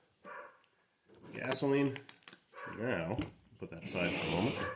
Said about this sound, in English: you can hear my goofball dog barking in the background